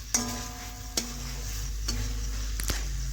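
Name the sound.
spice masala sizzling while being stirred and sautéed in a pan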